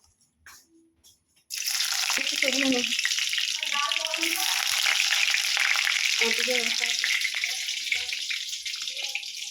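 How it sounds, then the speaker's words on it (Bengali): Chopped garlic dropped into hot oil in a pan sets off a sudden loud, steady sizzle after a brief quiet start, with faint stirring and clinks running through it to the end. "তেলটা গরম হয়ে গেছে এর মধ্যে এই কুচনো রসুনগুলো দিয়ে দেবো"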